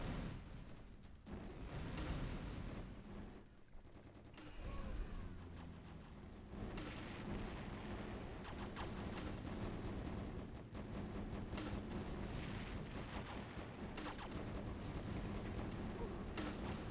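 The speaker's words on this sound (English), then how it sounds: "we have some SSM launchers now also in the mix" Artillery fire from SSM missile launchers in a real-time strategy video game, heard as a dense, continuous barrage of booms and blasts layered into constant loud battle noise for the whole stretch.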